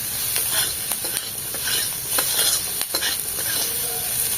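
Sliced capsicum and onion sizzle and fry in a pan, a steady close hiss broken by a few scraping stirs, with no talking.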